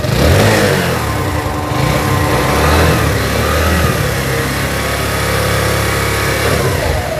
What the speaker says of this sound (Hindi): ये जो इसका अभी साउंड आप सुन रहे हैं ये बिल्कुल मतलब ज़ीरो थ्रॉटल पे है, आरपीएम इसका तकरीबन 1000 जो है उसके आसपास है।